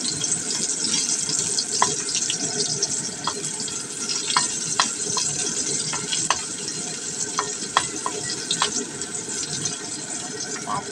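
Sliced onion fries in hot cooking oil for a chicken and chayote coconut stew, a dense continuous sizzle with sharp crackles and pops scattered throughout, close and fairly loud.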